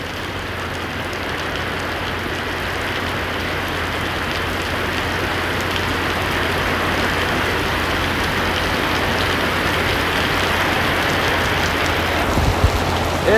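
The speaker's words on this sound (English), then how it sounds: "This is a crazy storm here in Florida." Heavy Florida thunderstorm rain pours down in a dense, steady roar of drops hitting surfaces, loud and unbroken throughout with a low rumble underneath.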